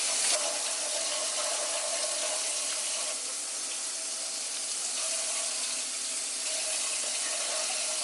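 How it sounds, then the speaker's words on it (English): Steady rush of tap water pouring into a sink, continuous and fairly loud from start to finish, with no other sounds. "So I'm going to start over here with tap water."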